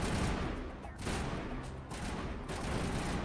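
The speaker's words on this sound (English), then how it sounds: "You guys are shooting." Dense retro video game gunfire crackles in continuous bursts, loud and close, with brief dips between volleys and faint shouting voices mixed underneath.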